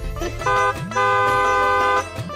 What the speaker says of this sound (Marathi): गाडीचा आवाज ऐकलास का?